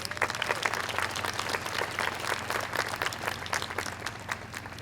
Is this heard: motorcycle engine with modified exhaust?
no